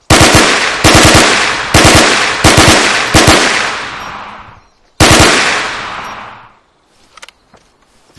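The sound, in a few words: 9mm gun firing rapidly in Arma 3 IFA3 war mod (video game)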